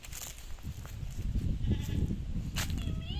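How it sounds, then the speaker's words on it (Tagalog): A goat bleats a few times outdoors over wind and rustling, with a rising, wavering cry near the end. "May kambing."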